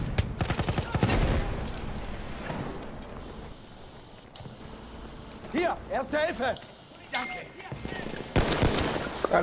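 Rapid machine-gun bursts and gunfire in the shooter game Battlefield 1, loud and dense at the start, then sporadic shots through the middle and heavy firing again near the end, with players talking over it.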